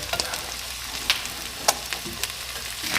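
Hash browns and an egg frying on a flat griddle, a steady close sizzle broken by sharp spatula scrapes and taps, no voices.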